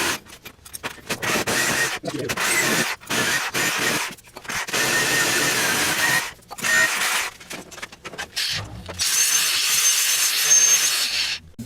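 Harness crossbar being cut for an E30 drift car during fabrication of a 4-point harness bar: loud, steady rasping saw cutting through metal, broken by short pauses, close by with no talk.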